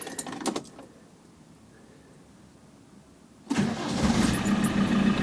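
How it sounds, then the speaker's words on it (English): A car engine cranks briefly, falls quiet, then catches and settles into a steady, fairly loud idle, heard close up during a check of unexpected noises after fuel filter work, with no talking. "let's see what happens on this crank."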